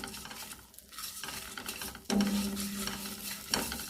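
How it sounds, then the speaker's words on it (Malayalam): Dried red chillies and coriander seeds being sautéed in a pan with a piece of ginger, for a chickpea curry. A spoon stirs and scrapes steadily over a soft sizzle, with a louder burst of frying partway through, close and without talk. "രണ്ട് വറ്റൽ മുളക് ഒരു ടേബിൾ സ്പൂണ് മല്ലി ഇത്രയും ചേർത്ത് നന്നായിട്ട് വഴറ്റി കൊടുക്കാം"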